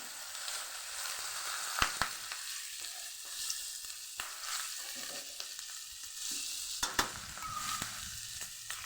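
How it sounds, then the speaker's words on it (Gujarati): Mustard seeds crackle and pop in hot oil with shredded capsicum, cabbage, carrot and ivy gourd for a Gujarati sambharo, giving steady close sizzling broken by sharp spluttering bursts and a few scraping stirs, with no voices. "એવું તેલ આપણું ગરમ થઈ ગયું છે એક ચમચી જેટલી રાઈ ઉમેરશું રાઈને સરસ આપણે ફૂટવા દેવાની છે"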